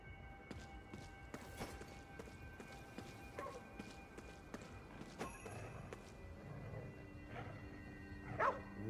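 A dog barks in a foggy Tokyo street in Ghostwire: Tokyo, a few sharp barks repeating amid faint game ambience, footsteps and soft background tones, fairly quiet overall.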